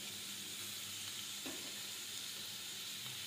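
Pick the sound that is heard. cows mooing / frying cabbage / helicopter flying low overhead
frying cabbage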